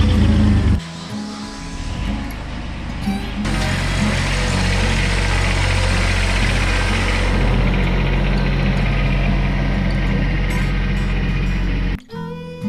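A 3.9 V6 engine in a restored Kubota tractor idles steadily after a cold start, a loud, even rumble running nearly the whole time after a brief start, with no talk over it.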